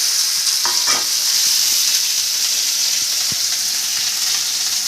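Tomato added to browned onions frying in a pan, a loud, close, steady hissing sizzle with a few soft stirring scrapes near the start.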